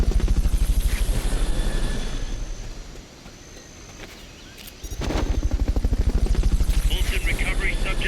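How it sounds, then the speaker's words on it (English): Helicopter rotor thumping steadily from the video game Metal Gear Solid: Peace Walker during a Fulton recovery, loud and continuous, dipping quieter in the middle before returning at full strength. "Fulton recovery subject confirmed onboard helicopter."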